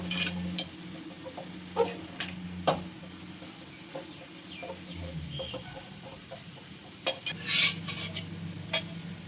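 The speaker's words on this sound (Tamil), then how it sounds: "இப்போ மல்லித்தலை போட்டுடலாம் நல்லா கலந்து விட்டுடலாம்" Potato gravy being stirred in a pot after coriander leaves are added, with intermittent scrapes and metallic clinks of a spoon against the vessel, close and fairly quiet, plus a few distant clucking fowl in the background.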